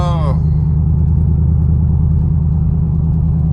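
A Camaro SS held just above 1,000 rpm while driving gives a deep, steady engine rumble with a low throb, loud and close throughout. A brief voice is heard at the very start.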